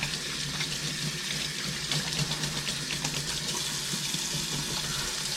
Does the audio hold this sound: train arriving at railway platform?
no